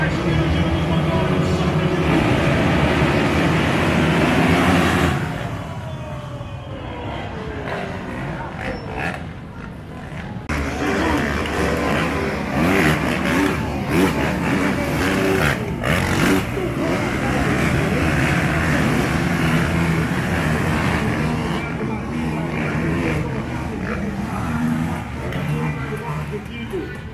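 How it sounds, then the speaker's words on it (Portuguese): Several 450cc race motorcycles rev their engines together at the start of a heat at the Salão Duas Rodas motorcycle show, a loud, dense engine roar that drops briefly and then surges again while someone talks over it. "Tira para 5, vai subir o giro do motor."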